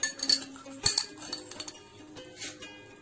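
A metal spoon clinks lightly against a pot of guava juice heating on a gas stove as citric acid is added for guava jelly, with several small, quiet taps and clinks and no talk.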